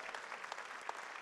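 Light applause from a French-speaking audience at a round-table discussion on housing policy, very faint and distant, a soft steady patter of many hands with no talk over it.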